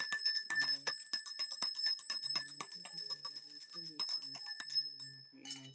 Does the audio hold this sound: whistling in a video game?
no